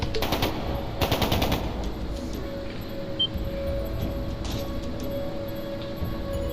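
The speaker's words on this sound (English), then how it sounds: "That sounded like gunfire." Gunfire in the video game Trails of Cold Steel II: two dense bursts of rapid automatic fire early on, then quieter scattered shots and clinks over a steady game ambience with a held tone.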